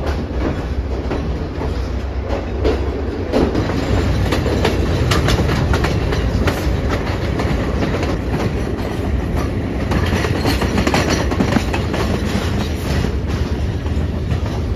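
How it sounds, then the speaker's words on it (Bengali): A passenger train pulls away from Nanu Oya station in the Sri Lankan hill country, its wheels clattering in a steady rumbling rhythm with loud continuous rail noise throughout and no voices. "ট্রেন ছাড়লো 12:12।"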